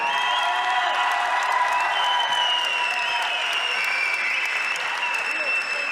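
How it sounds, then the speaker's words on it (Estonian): A crowd at a combat sports gala applauds the fight winner, dense sustained clapping with some cheering and whistling mixed in, steady throughout. "teeme talle suure aplausi"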